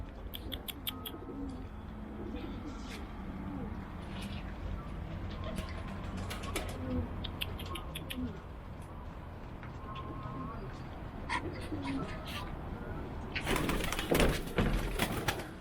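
A bird caught while hunting, with faint cooing from a pigeon or dove, scattered clicks and mechanical rattles, and people talking nearby throughout, ending in a louder burst of rustling.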